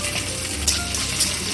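Spices, including bay leaves, sizzle loudly in hot oil in a pan, with a dense crackle and two brief sharper spits.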